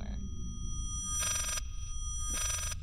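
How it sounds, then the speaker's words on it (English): A telephone rings in the horror video game Layers of Fear, two bright electronic trills with a pause between them over a low droning ambience, fairly faint. "This is the phone ringing through my horrible hangover"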